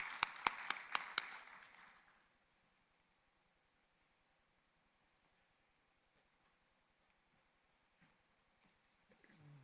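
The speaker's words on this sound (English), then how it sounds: "Let's give him a round of applause." A brief burst of audience clapping at a COMESA summit business forum, a few sharp claps fading out within two seconds, leaving near silence and faint shuffling.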